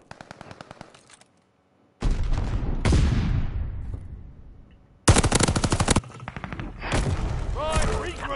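Rapid video game gunfire in a console Search and Destroy match: loud automatic bursts and single shots, with a short quiet gap, then dense rattling volleys. A voice talks briefly near the end.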